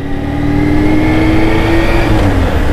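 A car pulls away hard in Toulouse traffic, its engine revving loud and close with a rising, strained tone that holds steady throughout, and nobody speaking.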